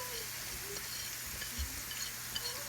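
Onions sautéing in a pan with salt and coriander powder for an old-fashioned fish molly, giving a steady, low sizzle that runs the whole time with faint stirring scrapes.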